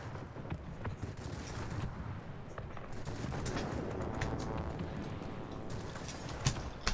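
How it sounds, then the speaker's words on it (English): Heavy cannon fire from aircraft in the World of Warplanes video game, a dense continuous barrage of gunfire and impacts with rumbling bursts throughout, steady and loud, with no talking. "And that's the first big cannon hit."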